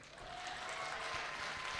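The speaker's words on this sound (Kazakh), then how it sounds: "Не деген дуғыл шапалақ мына енді?" Applause from a seated audience at a Kazakh KTL comedy-team contest, a steady, even wash of clapping heard at a distance and fairly quietly, sustained throughout with no voices on top.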